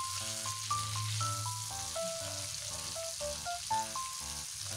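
Chicken pieces frying in a pan, a steady dense sizzle filling the background with soft bubbling and spattering, while quiet music-like tones play over it and no one speaks.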